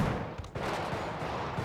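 Gunshots from a gang-war shootout in GTA V, set in a favela, sound as a dense, steady burst of crackling gunfire lasting the whole moment with no pauses or talk.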